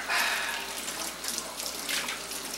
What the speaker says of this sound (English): Use warm or hot water, because then that kills the germs too. Turn that off.